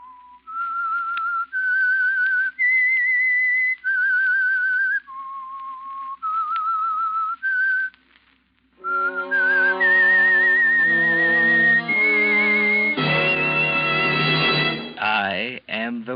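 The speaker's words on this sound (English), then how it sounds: "That whistle is your signal for the Signal Oil Program" The Whistler radio show theme: a lone whistled melody of held, sliding notes, then the same tune carried on by a full orchestra with brass and strings, loud and sustained.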